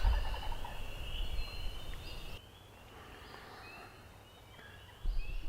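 Distant wild turkeys gobbling faintly outdoors in Maine, their calls rising over a steady breezy background hiss.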